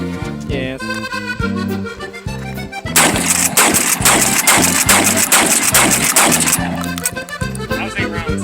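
Shotgun fired in a rapid string of eight rounds, sharp loud blasts piling into a dense burst of cracks over an underlying steady rhythmic music-like pattern, no speech.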